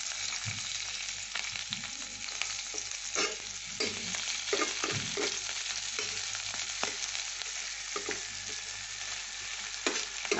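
Chopped onion and a green chili fry in hot oil for a green egg curry, a soft crackling sizzle broken by repeated spatula scrapes and stirs, close by and moderately quiet, with no voices.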